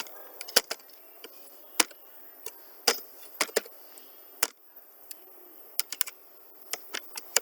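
Someone types a question on a computer keyboard: scattered, irregular key clicks, some in quick bursts and others spaced apart, close and fairly quiet against a near-silent room with no talking.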